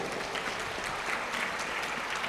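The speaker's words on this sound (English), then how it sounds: "with a big round of applause, please welcome Ms. Smriti Ranor" Audience applause welcoming a speaker at a school event: a dense, steady wash of many hands clapping, fairly quiet and continuous throughout.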